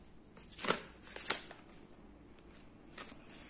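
Tarot cards are shuffled by hand in two quick riffling bursts close to the listener, followed by softer card handling and a faint third riffle, all against a quiet room.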